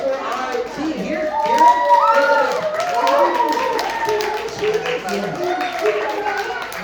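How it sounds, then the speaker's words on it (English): An audience at a dinosaur show claps and cheers, with children shouting, in bursts of loud, close clapping and excited voices mixed together. "why don't you cheer for her?"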